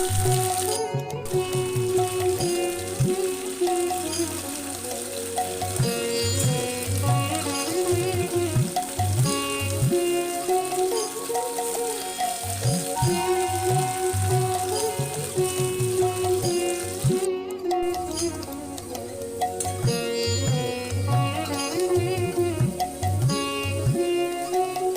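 Taro pieces fry slowly in oil for a sweet yogurt dish, giving a steady, close sizzle that runs the whole time with light bubbling texture and occasional stirring.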